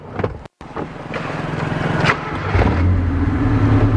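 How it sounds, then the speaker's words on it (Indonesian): A 1996 Honda Civic Ferio with a modified exhaust cranks and catches, settling into a low, steady idle rumble close to the microphone. "ini kita coba untuk nyalakan mobil ini"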